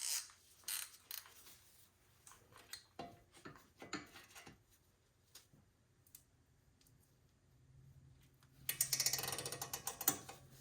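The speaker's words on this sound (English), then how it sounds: "I'm going to use my knuckle spreader tool, put that behind where the pinch bolt was, and as I turn it, it's going to widen up the knuckle" A knuckle spreader tool is turned to widen a steering knuckle on a BMW 328i suspension, giving a series of scattered mechanical ratcheting clicks that grow into a denser, louder burst of clicking near the end.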